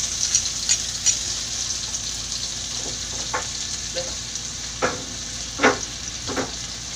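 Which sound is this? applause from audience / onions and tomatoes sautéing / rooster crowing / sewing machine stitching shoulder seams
onions and tomatoes sautéing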